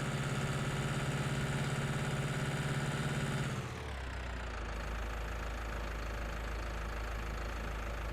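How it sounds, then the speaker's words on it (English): A tractor engine idles in Farming Simulator 19 with a steady, loud mechanical drone that drops sharply to a much quieter low rumble partway through, with no talking. "To me that tractor seems a little bit loud"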